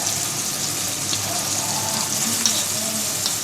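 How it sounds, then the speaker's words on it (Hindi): Tomato paste poured into a frying potato and egg curry, producing a loud close sizzle with bubbling and occasional stirring clinks, continuous throughout. "टमाटर ये आप हम इसमें टमाटर ऐड करेंगे।"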